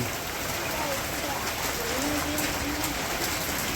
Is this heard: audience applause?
no